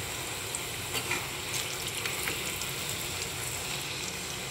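Wheat flour biscuits fry in hot oil, giving a steady close sizzle and bubbling with faint crackles, and no voices over it.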